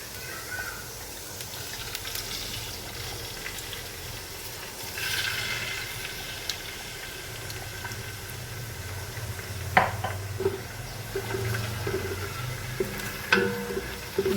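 Onions frying in oil in a pan for a chicken curry give off a steady, soft sizzle, with occasional clinks and stirring scrapes rising near the end.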